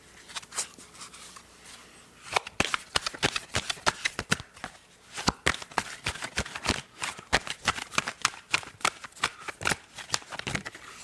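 Tarot cards are shuffled by hand in a long run of quick riffling and slapping bursts, close and fairly loud, with no one speaking.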